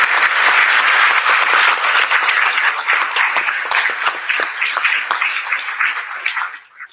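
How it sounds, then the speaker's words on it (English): A crowd applauds steadily at a school NJROTC change of command ceremony, dense clapping that fills the space loudly and then thins out and fades near the end. "Let's give him a round of applause."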